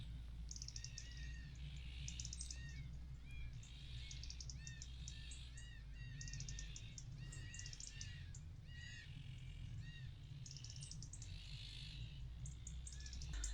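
Several birds chirp and sing in repeated short phrases over a steady low outdoor hum at a Portuguese homestead, fairly distant and calm.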